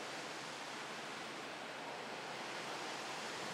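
Waves wash in steadily at high tide on Jomtien Beach, Thailand, as a dense, continuous roar of surf with no pauses, loud and close.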